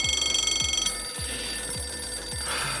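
An electronic phone-style ringing sound effect plays loud and close in a tabletop role-playing game session, a fast trilling burst with high bell tones at the start, then a sustained ring with repeated low thumps under it.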